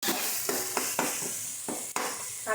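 Onions and tomatoes sauté in a pan for chicken biryani, a continuous close sizzle punctuated by several sharp scraping stirs at irregular intervals, with no one speaking.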